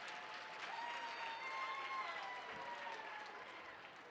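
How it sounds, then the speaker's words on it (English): Soft, steady applause from the audience at a dance convention awards ceremony, a continuous patter of many hands heard at a distance, with faint whistles riding over it. "Give Evan a round of applause."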